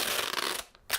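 Clear packing tape pulled and pressed onto the back of a brass plate, a rapid crackling rip for about half a second, then two short tearing bursts, close and fairly loud with no talking.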